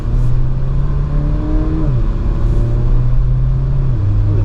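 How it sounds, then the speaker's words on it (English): A 2022 Porsche Macan base model with its 2-liter turbo four pulls hard up an on-ramp in sport mode, loud steady engine drone rising in pitch, dipping at gear shifts, then climbing again. "Get a little on-ramp action with the sport mode on and the traction control off."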